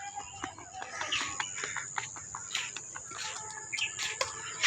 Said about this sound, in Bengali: মুরগির বাচ্চা অসাধারণ